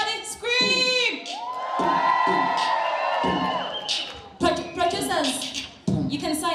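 A crowd at the MTNSWAMA awards show screams and cheers in bursts, with shrill high voices and whoops, loud and close, with speaking voices between the outbursts.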